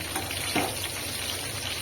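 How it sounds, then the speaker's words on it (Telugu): Eggplant pieces with curry leaves frying gently on low heat, a soft continuous sizzle with a couple of small pops, faint and close, no speech. "మనము నిదానంగా అనేది సిమ్లో పెట్టుకొని ఆ ముక్కలు అనేది వేగనిద్దాము."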